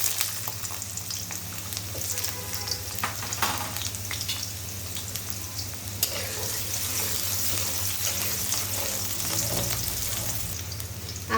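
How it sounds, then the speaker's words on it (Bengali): Cut potatoes fry loudly in hot oil in a home kitchen pan, a steady dense sizzle crackling throughout with brief stirring clatter, close and continuous with no talk. "আগে থেকে যে আলুগুলো কেটে রেখেছিলাম, আলুগুলো এখন হচ্ছে ভেজে নিব"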